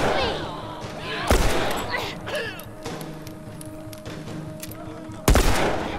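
Gunfire in The Last of Us Remastered, set in Bill's Town: two sharp, loud shots about four seconds apart, with faint game ambience in between.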